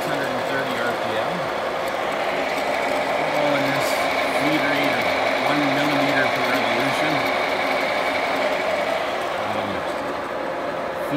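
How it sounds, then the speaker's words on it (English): A horizontal boring mill turning at 630 RPM gives a steady, fairly loud mechanical whir with a constant tonal whine and low rumbling harmonics that stays continuous throughout. "it's actually finally working. So it's running at"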